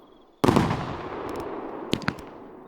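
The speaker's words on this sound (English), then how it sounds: "Firecrackers." A string of firecrackers goes off in the video game Fireworks Mania, a sudden loud burst of rapid crackling pops that fades out over a couple of seconds, followed by a few sharp isolated snaps.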